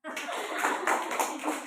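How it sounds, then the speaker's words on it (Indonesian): A church congregation claps along during a worship service, a steady patter of many hands running the whole stretch with voices mixed in. "berikan tepuk tangan bagi Tuhan"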